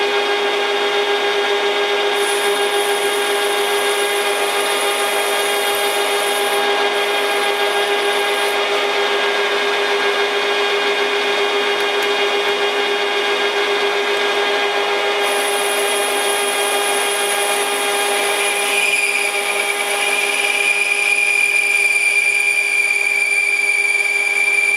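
A lathe boring bar cuts a steel backing plate for an ER32 collet chuck, a steady loud machining whine with high tonal ringing that holds evenly and rises in pitch near the end, with no talking.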